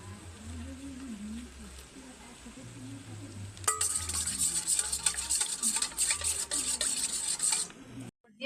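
A spoon scrapes and clinks around a kadai, mixing egg biryani ingredients with keora water and attar. The scraping is close and steady for about four seconds, after a stretch of talking.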